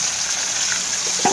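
Chopped onion fries in oil with bay leaf and cardamom, a short steady close sizzle with a small clink of a utensil near the end.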